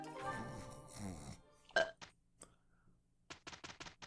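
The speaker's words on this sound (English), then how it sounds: "it's just tradition for me to burp once a video" A short burp rises out of a few seconds of quiet video-game music, followed by faint scattered clicks and small noises, close to the microphone.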